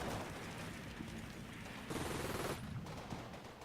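Distant squad rifle and machine-gun fire from the Normandy battlefield of Combat Mission Battle for Normandy, faint, steady crackling volleys with a Panther tank nearby, heard continuously and without talk.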